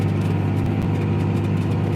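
A 1995 farm tractor planting soybeans in the field, its engine droning in a steady, close, low rumble with no pauses or talk.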